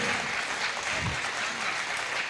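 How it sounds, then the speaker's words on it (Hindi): An audience at a Hindi poetry recital breaks into steady applause, a dense wash of many hands clapping evenly throughout, with faint voices mixed underneath. "एक बार तालियां बजाइए"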